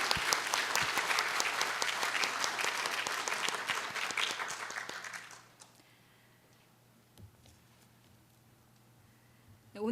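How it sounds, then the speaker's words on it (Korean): Church congregation applauding teachers at a teachers' dedication service, a dense burst of clapping that stops abruptly about halfway, leaving quiet room tone. "다음 세대를 위해서 헌신하고 있는 교사들을 위해서 격려의 박수를 함께 쳐주겠습니다."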